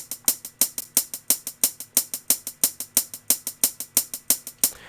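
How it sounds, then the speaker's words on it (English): A live-feel hi-hat pattern programmed in FL Studio plays back alone, crisp closed hats ticking in a fast, slightly uneven sixteenth-note groove with varying accents, clean and upfront. "So you see that's more of a live sounding hi-hat."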